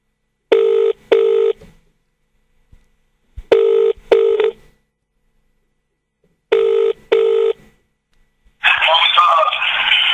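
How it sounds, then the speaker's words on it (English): Telephone ringback tone for an outgoing call, three pairs of short double rings spaced evenly, followed by a burst of noisy line audio as the call connects; no speech over the rings. "I'm going to make a random phone call on my phone, and whoever answers has to go live on radio"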